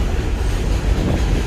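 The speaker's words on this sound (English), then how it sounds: "Subway coming." A subway train rumbles past in the Bronx, a steady low roar that fills the whole short stretch without breaks or speech.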